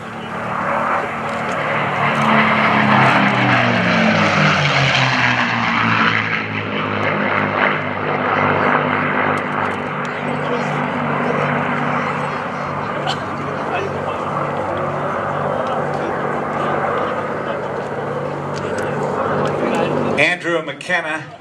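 A P-51 Mustang fitted with a Rolls-Royce Merlin engine makes a loud, sustained propeller-engine roar as it flies past at the AirPower Over Hampton Roads airshow, the drone sweeping in pitch as it nears and passes, with an announcer talking over it throughout.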